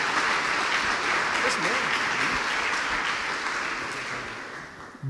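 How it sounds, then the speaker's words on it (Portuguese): Church congregation claps during a Sunday service, a broad sustained roar of applause filling the room that eases slightly toward the end. "E uma salva de palmas"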